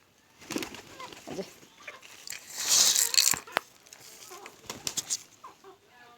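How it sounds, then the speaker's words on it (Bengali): Chickens just let out of the house peck at scattered feed, giving off irregular soft clucks and bursts of wing flapping that rise in a busy cluster midway, close by. "এই যে মুরগিতে ঠোকরাচ্ছে, দেখছেন?"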